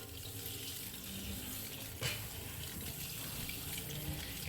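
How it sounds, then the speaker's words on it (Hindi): Chopped spinach in a strainer is rinsed under a running kitchen tap, a steady faint splashing hiss with a slight louder splash midway; no speech. "खुले पानी से धो लें"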